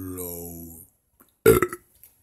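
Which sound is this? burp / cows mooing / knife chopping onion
burp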